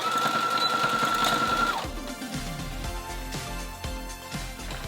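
A sewing machine stitches a back-and-forth bar tack on a skirt pocket, a close mechanical chatter that shifts pace, with a steady tone early before the stitching pulses take over.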